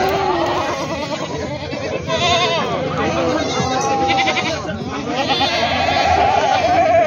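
Goats bleat repeatedly amid a busy weekly goat and sheep market in Vasmat, Maharashtra, with a dense crowd of voices and livestock noise throughout.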